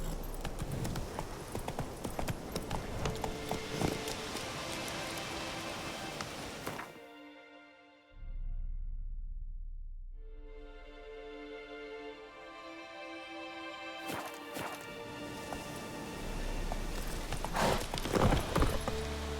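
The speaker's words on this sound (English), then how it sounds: "Faster. Not so fast, Roach. Giddy up." Horse hooves clip-clop steadily in The Witcher 3 video game, a galloping rhythm that stops briefly midway, then resumes, with faint game sounds around it.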